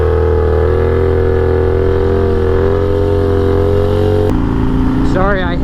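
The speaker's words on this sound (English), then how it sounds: "I got to get a quick wheelie out of my system here" A motorcycle engine held at a steady high drone during a wheelie, loud and close, then dropping in pitch and shifting toward the end.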